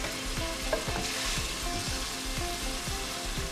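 A whole tin of tomatoes goes into a sizzling fresh fenugreek and chicken curry pan, giving a steady, close frying hiss broken by regular scraping stirs.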